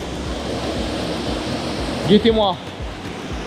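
A small waterfall pouring into a private pond, a constant broadband rush of falling water under a man's brief spoken phrase.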